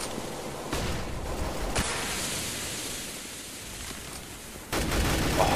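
A grenade blast and gunfire in a competitive Counter-Strike match, heard as a noisy wash of explosion and shots with sharp bursts at the start and again near the end.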